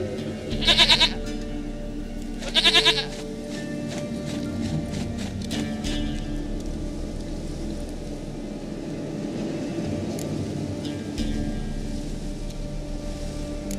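Two short, loud goat bleats from The Witcher 3, sounding close together near the start and separated by a brief gap, over a steady low ambient game background with faint clip-clop.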